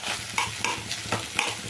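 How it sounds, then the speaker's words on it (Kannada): Drumstick leaves being stirred in a hot pan, with repeated scraping strokes of the spoon about every quarter second over a soft continuous sizzle, close and clear, no voices. "ಇವಾಗ ನಾನು ನುಗ್ಗೆ ಸೊಪ್ಪು ಹಾಕ್ಕೊಳ್ತಾ ಇದ್ದೀನಿ. ಈಗ ಇದನ್ನೆಲ್ಲ ಚೆನ್ನಾಗಿ ಮಿಕ್ಸ್ ಮಾಡ್ಕೊಳ್ಳೋಣ."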